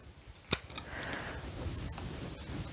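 Scissors snip back red anthurium (flamingo flower) leaves, giving two sharp, close cuts early on and then a steady soft background with faint rustling.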